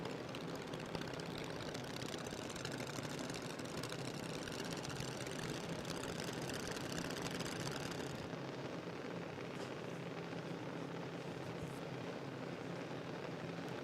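A junior dragster engine idles and revs at a drag race at Willowbank Raceway in Queensland, giving a steady, loud, dense mechanical drone with no break for the full length.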